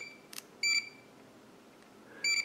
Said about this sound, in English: we can get a beep sound.